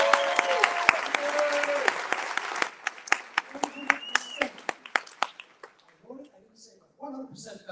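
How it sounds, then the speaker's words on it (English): Applause from a political debate audience at a Michigan Republican gubernatorial debate, loud at first then thinning into scattered individual claps before fading out. "we'll hold the applause to the end"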